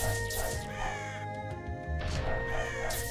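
Crows caw repeatedly in a side-scrolling level of the game Touhou Scarlet Curiosity, harsh calls in several bursts over steady game music and effects.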